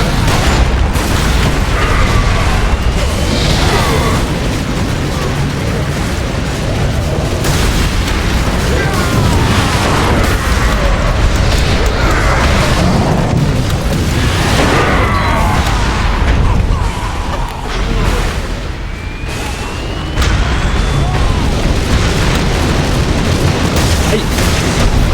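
Loud booms and bursting explosions pile up in a Warhammer video game battle, with continuous rumbling blasts, pops and gunfire-like crackle filling the whole stretch, no talk heard.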